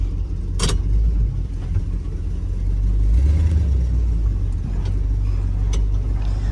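1975 International 200 pickup truck with a leaking radiator, long unused after sitting in a field, driving along with a low rumbling engine note that swells as it accelerates, plus occasional clicks and knocks.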